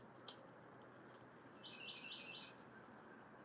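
Birds chirp and tweet outdoors in a park, with short bright calls and a brief trilling run scattered over a soft, steady background hush, fairly faint and at some distance.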